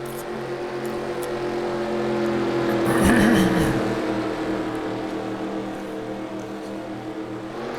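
Formula One race cars in a racing video game accelerate away from a restart at Mexico City, engines whining and building to a loud pass near the middle before fading, with a steady engine drone behind.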